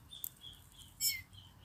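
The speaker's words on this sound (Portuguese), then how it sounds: "Sabiá poca aí pra vocês." A pale-breasted thrush (sabiá-poca) singing outdoors, faint high chirps and a brief brighter phrase in the middle, heard at a distance over quiet background noise.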